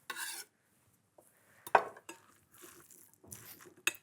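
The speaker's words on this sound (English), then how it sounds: "And a final mix through our couscous." Couscous tossed through with a pumpkin filling: a few short scraping and clinking bursts of utensils against a bowl, separated by quiet gaps, close and moderately loud.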